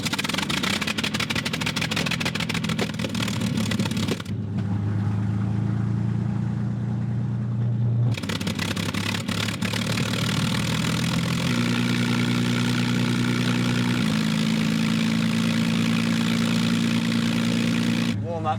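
A restored WW2 Rolls-Royce Merlin aircraft engine from a Spitfire coughs, catches and settles into a deep, loud, throbbing idle, pausing briefly before firing again and running steadily, with a voice speaking over the engine.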